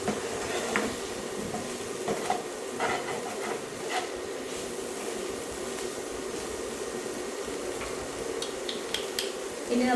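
Bitter gourd fries in a pan and is stirred: a steady sizzle runs throughout, with repeated scraping and tapping clatter from a utensil against the pan.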